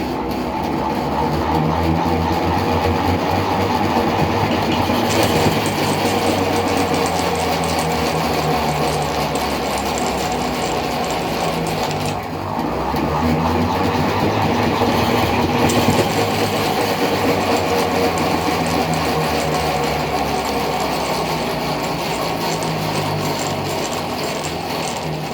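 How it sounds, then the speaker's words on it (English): A centrifugal honey extractor spins frames of uncapped honeycomb, giving a steady, loud mechanical whirring drone with a rattling, ratchet-like texture that runs continuously throughout, briefly dipping around midway before resuming. "with a centrifugal, what it does is it pushes honey out of the cells that we just opened"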